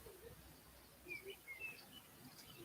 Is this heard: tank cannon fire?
no